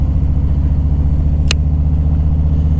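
A 2023 Harley-Davidson Low Rider ST's engine idles close and loud in a steady low rumble, with one sharp brief click partway through and no talking.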